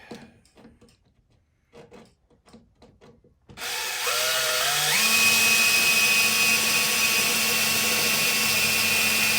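A power drill with a 1/4 inch bit bores a hole in aluminum: after a few quiet knocks and handling sounds, the motor starts suddenly and runs as a loud, steady whine that rises in pitch and holds.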